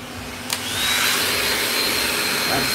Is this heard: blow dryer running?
yes